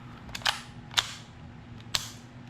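A KWA HK MP7 airsoft submachine gun fired on semi-auto: three separate sharp, snappy shots spaced about half a second to a second apart, close by, with no talking.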